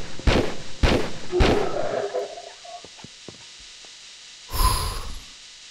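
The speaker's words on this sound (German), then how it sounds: "Wir ziehen die Waffe. Ich nehme dafür meine Desert Eagle." Three loud, sharp Desert Eagle pistol shots ring out in quick succession in Tomb Raider III, followed by scattered clicks and a later heavy blast or impact, with no talking.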